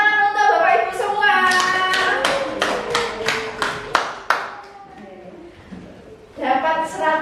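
Classroom audience clapping for the teachers in a brief burst of sharp, rhythmic, near claps, with a teacher's voice speaking before and after.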